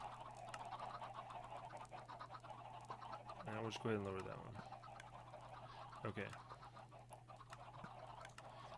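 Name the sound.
chickens in an auto chicken farm, from video game Minecraft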